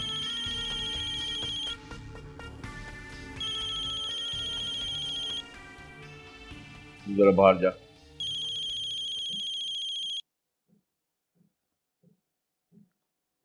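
A phone ringtone plays in repeated melodic bursts, stopping and restarting, with a brief spoken remark in between before it cuts off into near silence.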